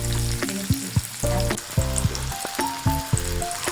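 Chicken pieces fry in a hot pan, a loud continuous sizzle and crackle with periodic tonal squeaks and clanks as the pieces shift, close by and with nobody speaking.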